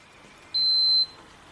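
An Infinity enteral feeding pump purging its tubing gives a single clean, high electronic beep lasting about half a second over faint room hush.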